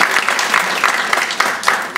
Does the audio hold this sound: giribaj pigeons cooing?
no